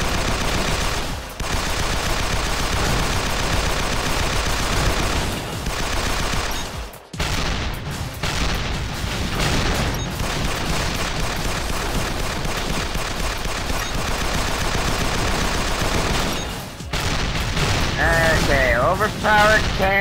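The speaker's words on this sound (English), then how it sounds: "Overpowered cannon is not doing much." A heavy cannon fires continuously at swarming ants in the video game Assault Gunner, a dense, sustained barrage of booming gunfire with only brief breaks, loud throughout.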